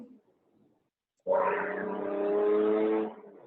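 An Acura NSX sports car engine runs steadily at a smooth, even idle-like drone, starting abruptly after a brief quiet moment and holding for about two seconds, close and moderately loud.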